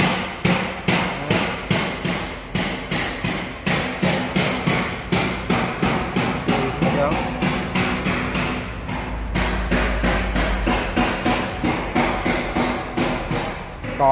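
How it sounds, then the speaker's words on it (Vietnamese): An Isuzu 3KC three-cylinder diesel engine rated at 25 hp runs on test with a loud, close, evenly spaced thumping knock that repeats about twice a second, continuing steadily throughout without speech. "Cho nên nghe thử tiếng máy."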